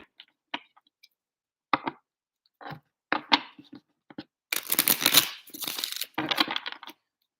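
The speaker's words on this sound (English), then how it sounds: "I'm gonna shuffle." Tarot cards being shuffled by hand: a scatter of separate light taps and clicks, then a few dense, papery riffling bursts near the end, close and fairly quiet.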